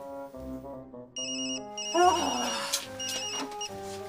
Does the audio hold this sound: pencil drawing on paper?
no